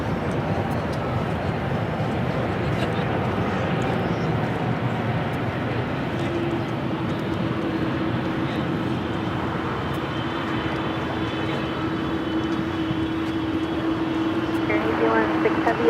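A Boeing 777-200 airliner bound for Newark at Los Angeles airport: a steady, loud jet engine roar with a low rumble throughout and a faint whining tone coming in partway through.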